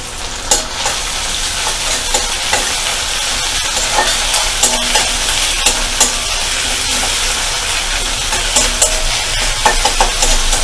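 Ginger-garlic paste sizzling and frying in a pan over medium flame, a steady loud hiss with intermittent stirring scrapes throughout.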